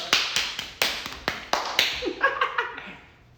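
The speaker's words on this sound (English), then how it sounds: "Give her a hand clap." A few hand claps ring out near and loud in an uneven rhythm, about eight sharp slaps over a few seconds, tapering off as light laughter and murmuring rise at the end.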